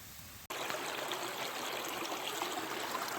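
A creek in winter in central New York, where a homemade sluice box sits for gold prospecting, flows and trickles steadily and loudly up close after a brief cut at the start, with no talking.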